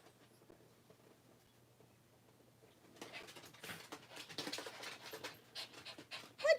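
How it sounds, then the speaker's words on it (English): A pet dog pants quickly and rhythmically close to the microphone in a quiet room, the rapid breaths starting after a near-silent stretch and growing louder, with scuffling and a soft thump near the end. "Oh, there comes my doggie, Sally."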